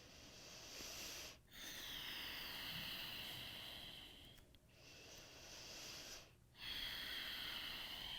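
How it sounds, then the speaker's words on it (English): Slow, deep breathing during a yoga class, with soft drawn-out breaths and brief pauses between them, heard close and fairly quiet over a steady background hiss. "Breathing deeply."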